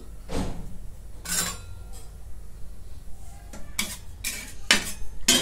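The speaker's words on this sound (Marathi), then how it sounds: "आता इथे तवा ठेवलाय, तेल ओतून घेते." An iron griddle is set on a gas stove in a home kitchen and oil is poured, heard as a few sharp metallic clanks and scrapes, spaced apart over quiet background.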